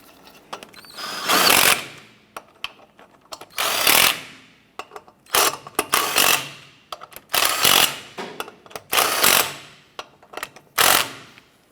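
A ratchet snugs down the lug nuts on a Chevy S10 wheel, giving repeated bursts of rapid clicking and whirring in an uneven rhythm, close and loud with brief gaps between turns.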